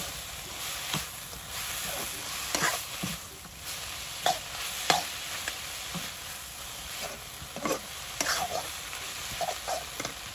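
Crab and leafy greens cooking in a pan at a village kitchen, with a steady sizzle under scattered stirring scrapes and clatters throughout.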